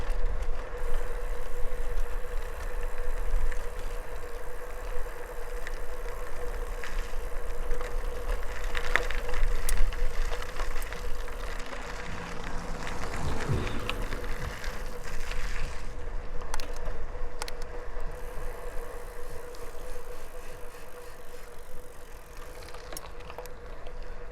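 An Opus Horizon gravel bike rolls over a short gravel section, giving a steady broadband crunch and rumble of tyres on loose stones mixed with wind noise, continuous and fairly close throughout.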